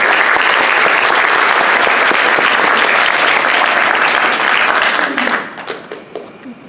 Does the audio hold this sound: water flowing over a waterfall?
no